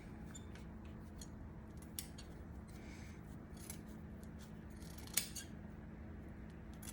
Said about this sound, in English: If I snip into these areas right here, the tongue will look like the tip is perched up more